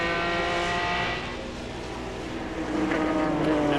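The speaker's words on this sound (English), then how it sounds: "We ride with Boris Said" Onboard ride in a Speed World Challenge GT race car at Mosport in 2003, a loud, sustained engine roar with strong harmonics that dips briefly, then climbs again as revs build.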